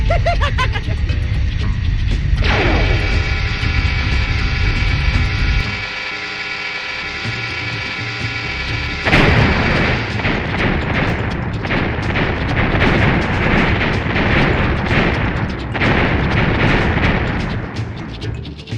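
In the video game Crash Bandicoot 2, the Cortex Vortex is destroyed in a loud explosion. Mechanical grinding and ratcheting build up, followed by a heavy boom and a stretch of rumbling, crackling debris.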